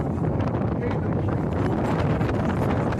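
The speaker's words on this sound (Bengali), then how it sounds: "বাইরে প্রচন্ড হাওয়া।" Strong wind roars across a rocking boat out near the Needles off the UK coast, a loud, unbroken rush of gusting air blasting the microphone throughout.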